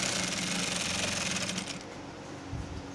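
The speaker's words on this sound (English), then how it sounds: "So we're going to sew all through the back facing." A sewing machine stitches steadily through the back facing of a garment with piped neckline, a continuous close mechanical whir that eases off and quiets partway through before a brief pickup near the end.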